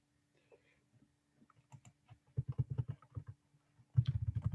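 Typing on a computer keyboard while entering a website address, starting with a few sparse taps and building to quick bursts of close, crisp key clicks in uneven clusters, with no talk.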